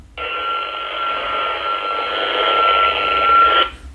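A SCOM FC12 Pro radio receiver with squelch off hisses with a steady, fairly loud burst of static-laden airband transmission lasting several seconds before cutting off abruptly.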